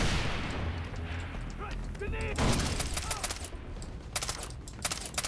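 FAMAS assault rifle fire in Far Cry 3 crackles in rapid bursts through a dense game battle mix, with louder volleys toward the end and someone talking over the shooting.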